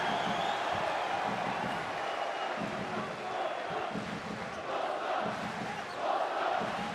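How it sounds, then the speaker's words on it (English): A basketball arena crowd roars steadily through a FIBA World Cup game between Bosnia and Herzegovina and the Czech Republic, a dense, loud wash of voices with swells and faint low thuds underneath. "So the crowd roars, and Bosnia and Herzegovina look to make their comeback"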